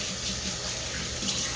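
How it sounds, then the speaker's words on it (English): Hands being washed under a running kitchen tap between steps of making slow-cooked pork chops, giving a steady close hiss of flowing water with no talking. "So let me wash my hands."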